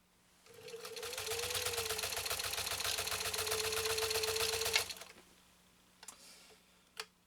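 A Singer Centennial 15-91 sewing machine stitches through thick 10–12 ounce leather, a fast even mechanical chatter with a steady motor whine lasting about four seconds, followed by a couple of soft clicks.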